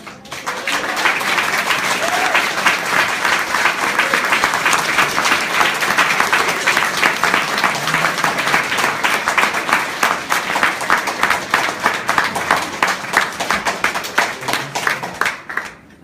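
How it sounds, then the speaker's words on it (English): Wedding guests applauding the newly married couple right after the kiss, loud sustained clapping from a crowd that holds steady for the full stretch before stopping abruptly. "You may applaud."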